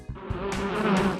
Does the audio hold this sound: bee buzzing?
yes